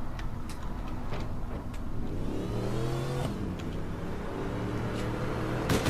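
A car in the game APB Reloaded driving and revving, a steady mid-pitched engine drone that climbs through gear changes with a few sharp knocks, close and loud without speech.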